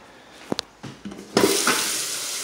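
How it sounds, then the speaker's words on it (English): A bathroom faucet is turned on after a few clunks and taps, then runs in a steady close hiss of flowing water. "No drips on the faucet."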